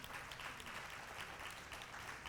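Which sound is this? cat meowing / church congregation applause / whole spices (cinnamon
church congregation applause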